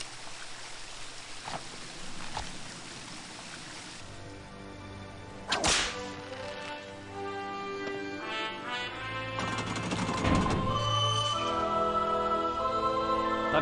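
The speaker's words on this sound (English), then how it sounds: "Oh, there's a whippy whip." A sharp whip crack from the video game Indiana Jones and the Infernal Machine snaps loudly near the middle, set against sustained game music and ambient tones, with a second fainter crack later.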